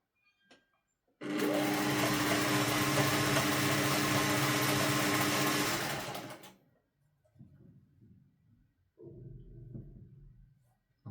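A Singer 401 sewing machine under tension repair runs at a steady, loud whir for about five seconds, then stops, and quieter mechanical handling sounds follow.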